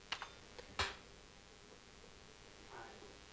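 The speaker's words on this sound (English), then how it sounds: "I'm going to hit the J key to go backwards" A few faint computer keyboard key presses, two quick clicks then a sharper single tap, followed by a soft later click in a quiet room.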